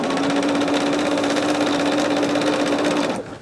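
A sewing machine runs continuously while stitching a Christmas gnome pattern, a loud, steady whirring hum with rapid needle clatter for about three seconds before slowing and stopping at the end.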